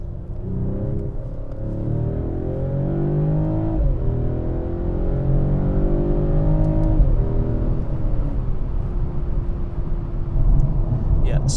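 A 2021 Mercedes E450 Cabriolet accelerates on the highway, its engine rising steadily through gears with brief dips at shifts, loud and continuous over wind and road roar, with someone talking in the car.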